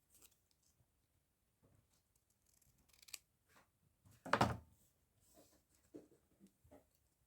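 Scissors trimming an old book-page paper stamp, a few quiet snips and paper rustles close up, with one louder crisp cut in the middle and softer handling sounds around it.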